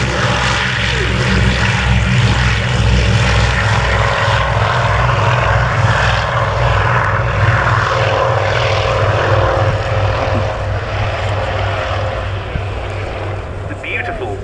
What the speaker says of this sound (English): Sound of the 2 Armstrong Siddeley Cheetah 15 engines powering this aircraft